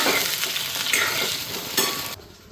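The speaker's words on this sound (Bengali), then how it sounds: "এখন যে বেগుন দিয়ে দিচ্ছি, বেগুনটাও হালকা ফ্রাই করে নিই" Brinjal (eggplant) pieces frying in a pan give a steady, close sizzle with stirring scrapes throughout, briefly dipping near the end.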